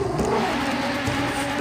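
A Toyota AE86 engine revving in Forza Horizon 3, a steady, close, loud mid-pitched drone that holds for under two seconds with no talking.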